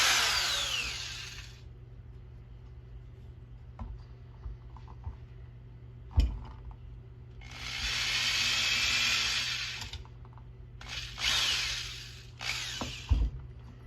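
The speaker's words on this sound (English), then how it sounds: "So first we're just going to drill a pilot hole." Power drill boring a pilot hole for a furnace duct cleaning setup, whirring in several separate bursts with quiet gaps and a few sharp knocks between them.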